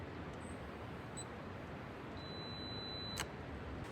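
A camera on a two-second self-timer beeps faintly a couple of times, then its shutter fires with a single sharp click against a quiet background hiss in a forest.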